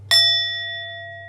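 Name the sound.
ringing bowls being played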